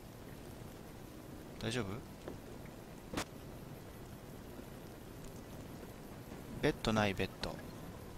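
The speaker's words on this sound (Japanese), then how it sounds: "ちょっと雨降ってきたんでね、休もうかな。" Rainfall in modded Fallout New Vegas (Honest Hearts), a quiet, constant hiss in the background while a person speaks two short phrases over it.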